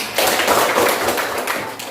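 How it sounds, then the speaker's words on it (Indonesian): A class claps in a room, a dense burst of many hands that holds for about two seconds before tapering off, close and fairly loud. "Tepuk tangan buat saya"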